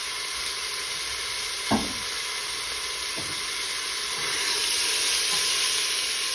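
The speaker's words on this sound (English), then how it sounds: "you should hear a nice sizzle like this" Lamb sizzles steadily in a hot pan, with a couple of soft clinks and stirring noises over the constant frying hiss.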